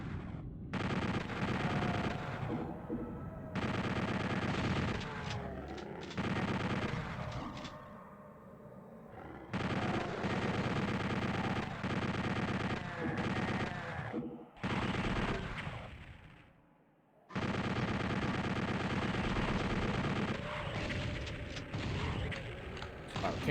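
Bursts of rapid machine-gun fire and heavy weapon blasts in Doom II, loud and repeated in long volleys separated by short pauses, with a voice talking briefly between them.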